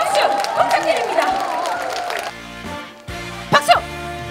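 Audience clapping and crowd noise at a daytime lunch concert, mixed with voices for about two seconds before dropping away to quieter sounds.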